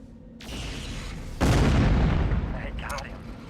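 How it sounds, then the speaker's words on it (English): LRM missiles launching from a mech in Mech Commander 2, a loud whooshing roar that swells suddenly and trails off over a couple of seconds, following a lighter rumble of battle. "I can still shoot him with LRMs."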